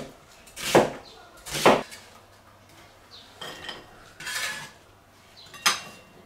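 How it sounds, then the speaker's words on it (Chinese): Half an onion sliced with a kitchen knife on a board, several distinct chopping knocks spaced irregularly, close and fairly quiet, with a faint low hum in the background and no speech. "洋葱还是给它切成片儿"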